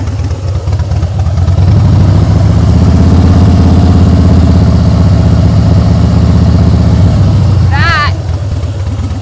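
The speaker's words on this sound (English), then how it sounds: "So we're going to rev the throttle up so you can see my revs come up." Motorcycle engine runs loud and close with a low, throbbing note that climbs as the throttle opens and holds high revs, then drops back; a brief voice cuts in near the end.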